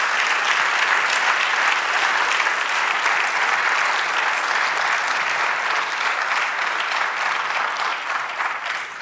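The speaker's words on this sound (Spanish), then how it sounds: "Den un aplauso al Señor entonces." Sustained, dense applause from a church congregation fills the room steadily, loud and even throughout before tapering slightly at the very end, with no speech over it.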